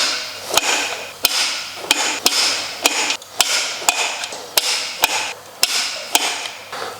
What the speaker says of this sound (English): Now let's torque it to 23 Newton meter as it's supposed to be the final torque setting.